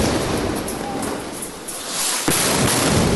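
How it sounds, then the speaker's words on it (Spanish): Explosions at Al-Aqsa hospital in Gaza City sound as a dense roar of blasts and rumbling, with a sharp loud crack about two seconds in, then continued heavy noise. "Estas explosiones se han producido en el hospital de Al-Aqsa, en Ciudad de Gaza"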